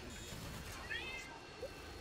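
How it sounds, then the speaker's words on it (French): A cat meows twice in a room, short rising calls under steady game sounds and background noise during a Modern Warfare 2 session. "Oui, c'est mon chat."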